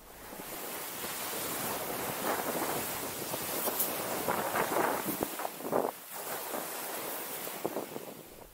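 Wind and waves roll onto the shore at Shoebury Common beach, a loud continuous roar of surf with gusts buffeting the microphone throughout.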